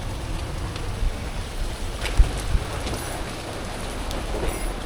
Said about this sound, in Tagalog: Grabe naman ang ulan na to.